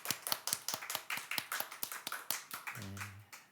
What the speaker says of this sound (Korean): 주님께 감사의 박수 올려드립니다.